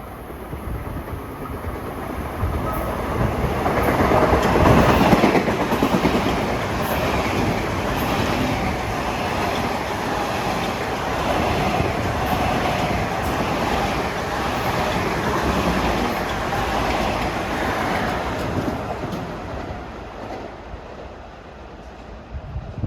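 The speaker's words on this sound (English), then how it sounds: "at 5:56 coming east on number 1 is a hot shot, 2066 New York Ronkonkoma. Non-stop from New York to Wyandanch." Long Island Rail Road express train passing on triple track on a damp, dreary day, a steady rushing rumble with rhythmic clatter of wheels over rail joints that swells and then slowly fades.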